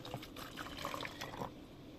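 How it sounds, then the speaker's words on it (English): Water pours into a container to make a fridge cleaning solution with baking soda and salt, a faint, steady splashing trickle lasting about two seconds with small bubbling bursts, quiet and close. "So I'm going to start off by adding water."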